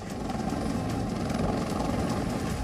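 A helicopter flies overhead during a flood rescue, its rotor throbbing loud and steady throughout without any voices.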